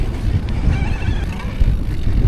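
Wind gusting steadily across the microphone during a mountain bike ride through local woods, a continuous low rumbling buffet with no talk.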